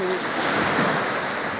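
Sea waves breaking on rocks at Lagoa, Portugal, a steady close wash of surf with wind noise on the microphone, continuous and fairly loud throughout.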